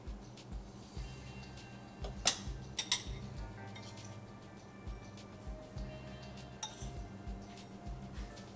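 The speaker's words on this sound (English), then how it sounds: "give that a stir just to make sure it's incorporated." A spoon scrapes and clinks against a pot while South Indian upma is stirred, producing light irregular metallic ticks over a low continuous background.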